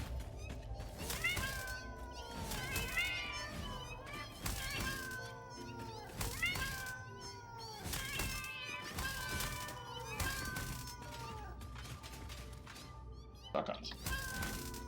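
Several cats meow repeatedly and loudly, the calls overlapping and scattered throughout, with occasional thumps and background noise mixed in.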